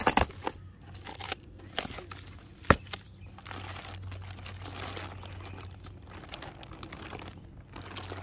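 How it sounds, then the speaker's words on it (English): A foil and bubble wrap bag is opened up close, giving repeated crinkling and crackling with a few sharp snaps and a steady rustle throughout, with no voices. "There's a foil bag on the top here."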